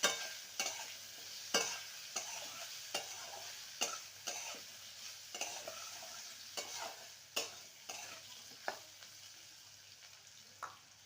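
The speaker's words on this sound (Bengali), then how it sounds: "ভালো করে নেড়ে নেব যাতে করে আদার কাঁচা গন্ধটা চলে যায়" Ginger and bottle gourd greens frying in a pan, with a spatula stirring in a steady rhythm of about a dozen sharp scrapes over a soft continuous sizzle, no talk.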